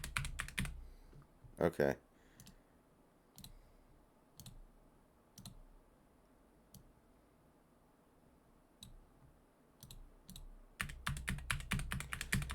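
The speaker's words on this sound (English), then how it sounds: "you can still hear the hell out of my keyboard" Computer keyboard typing during a Persona 3 Reload gaming session, clusters of crisp clicky keystrokes near the start and a dense flurry at the end, with sparse single taps between and a brief spoken word.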